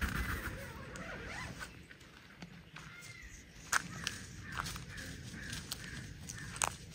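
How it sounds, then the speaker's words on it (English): A tent window zipper is pulled open at a campground, giving several short, rasping zip strokes with a few sharper clicks, close but fairly quiet against soft outdoor background. "Unzip this window."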